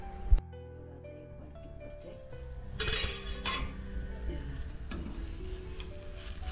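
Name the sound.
lid being put back on a cooking pan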